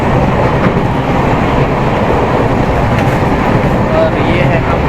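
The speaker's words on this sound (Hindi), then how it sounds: "ये है दोस्तों अपने ट्रेन का इंटीरियर," Steady rumble and rattle fill a moving Gorakhpur Express sleeper-class coach, with continuous broadband rail noise and faint clickety-clack from the wheels, loud and unbroken throughout.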